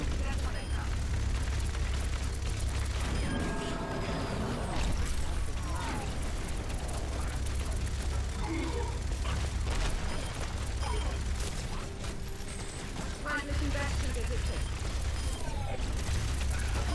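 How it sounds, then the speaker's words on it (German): Orisa's ultimate ability in the Overwatch video game going off amid dense, continuous game combat noise, with booming and mechanical clatter held loud throughout. "Hier ist die Ulti von Orisa."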